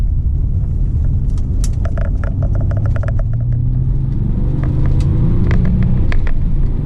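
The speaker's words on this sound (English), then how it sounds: "you can't drive it without, you know, being a bit mesmerised by that lovely characterful air-cooled engine" Air-cooled flat-six engine of a Porsche 911 (993 generation) running steadily, a loud continuous low rumble with light mechanical clicks and ticks on top, no talking.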